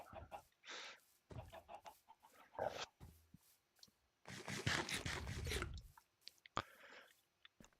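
Minecraft chickens in a chicken coop give short, scattered clucks and scratchy sounds in irregular bursts, some louder and closer, with a longer dense flurry partway through.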